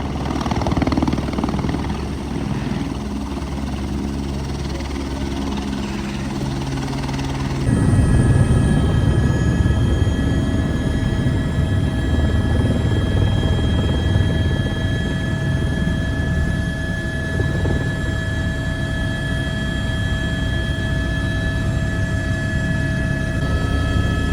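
Helicopter arriving on Mendenhall Glacier near Juneau, Alaska: a loud, steady rotor and turbine roar that swells after a few seconds and holds, close and continuous with no talk.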